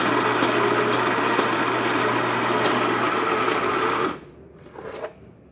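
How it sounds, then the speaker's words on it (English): A rebuilt Baratza Preciso burr grinder grinds coffee beans with a loud, steady mechanical whir up close, then stops abruptly, leaving a short quiet tail with a faint knock. "it's grinding different sizes of coffee, from really coarse to very fine"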